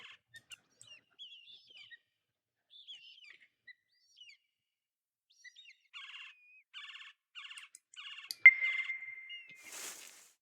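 Birdsong in the Birding Simulator game: a string of short chirps and warbling phrases, then a rhythmic run of repeated call bursts ending in a sharp, louder note, all in a quiet open setting with no talk.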